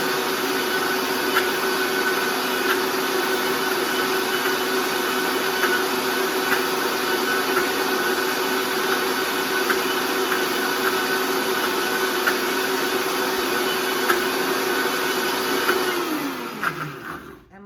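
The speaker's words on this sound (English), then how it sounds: "I'm gonna blend one more time just because the perfectionist in me wants it to be a little more creamy" Blender whirring steadily on quinoa bread batter, a loud continuous motor whine that holds level and then spins down at the end.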